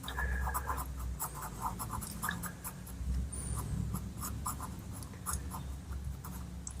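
A pastel pencil shading on paper, producing close, soft scratchy strokes in quick repeated bursts, with no one talking.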